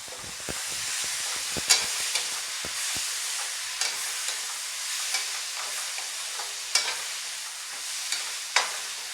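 Spices and dry fruits roasting in a pan give a steady sizzle, with sharp clicks and taps from a spoon stirring against the pan, close and moderately loud.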